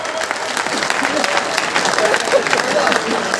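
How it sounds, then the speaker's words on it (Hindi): A Bundelkhand audience at a comedy poetry gathering gives poet Johnny Bairagi a dense, sustained wave of clapping, fairly loud and close, with voices audible within the crowd. "एक बार आप लोग तालियों का सैलाब।"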